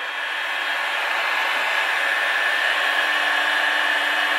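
Heat gun blowing hot air onto a plastic strip on a Lambretta scooter, a steady, moderately quiet airy roar with a faint whine running unchanged throughout, no voices.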